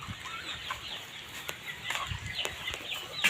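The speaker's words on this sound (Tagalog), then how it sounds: "Ito mga manok, mga bibi." Chickens cluck and chatter continuously nearby on a farm with turkeys and ducks, with a rooster-like call mixed into the busy farmyard noise.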